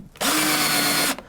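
A power drill drives 5/8 screws into a soft board. It makes one steady, loud whirring burst of just under a second, with a brief spin-up and a clean stop.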